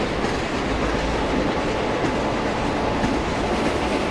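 Continuous wheel-on-rail rumble with rhythmic clickety-clack from a train running in Indian Train Simulator (MSTS), loud and close, steady for the whole stretch.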